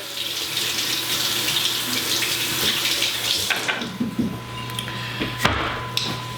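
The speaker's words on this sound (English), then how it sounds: "I have one more I have to wash here. You want to scrub the skins real good." Running tap water pours into a sink as a Waltham butternut squash is washed and scrubbed beneath it, a steady broadband rush for about three and a half seconds before it thins out, leaving quieter splashes, scrubbing and a few knocks.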